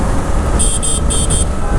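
Horn of a Suzuki GSX-8R motorcycle on an open highway stretch, four short high beeps in quick pairs over loud wind and road rumble.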